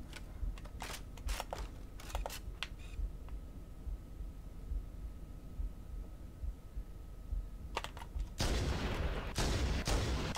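The Needler weapon in Halo: The Master Chief Collection fires in short rapid bursts of sharp crackling shots, with a quieter gap before a louder burst of dense noise near the end.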